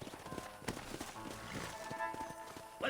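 Hooves of horses in Red Dead Redemption clop at an uneven walking pace, moderately close, with faint background ambience and a few sharper knocks.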